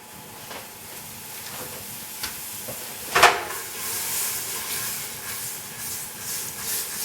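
Butter going into a regular stock pot on a stove turned to high: a soft, steady hiss and faint sizzle, with one brief louder crackling burst midway, no talking.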